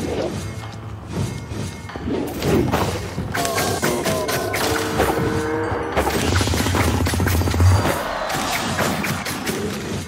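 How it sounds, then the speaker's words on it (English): Firework rocket explosions in Minecraft Dungeons go off in the Desert Temple level, giving repeated booms and crashing blasts amid clattering trap mechanisms and game effects, with no pause between them. "that firework rocket has been really good"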